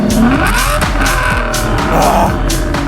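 A loud, close Aston Martin DBS V12 running straight-pipe exhaust with no catalytic converters, blipped through a few sharp revs over a steady rumbling idle, with no talk.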